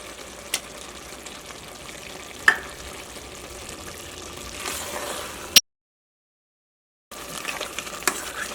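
Beef curry with thick, mildly sour curd being stirred in a pan, a soft continuous scraping and sizzle with a few sharp spoon knocks against the pan, then a brief silence before the stirring resumes.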